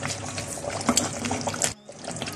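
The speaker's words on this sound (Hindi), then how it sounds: "मैंने गर्म पानी इसलिए शामिल किया है" Hot water pouring steadily into a pot of aloo gosht, a continuous splashing stream that cuts off abruptly, then a quieter trickle.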